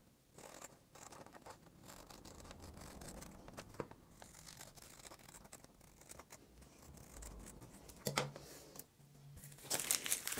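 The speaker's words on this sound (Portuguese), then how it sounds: "Agora vamos cortar." Scissors cut out a paper face mask pattern, a quiet, close series of crisp snips and paper crinkles and rustles, with a louder rustle toward the end and no talk.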